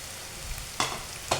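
Ginger and garlic fry in a pan while a devilled salmon dish is made: a soft, steady sizzle broken by two brief bursts of stirring, close and fairly quiet.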